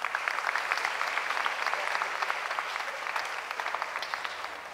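An audience applauds at the closing ceremony of an international ballet academies meeting, with steady, dense clapping from a large room held at an even level throughout.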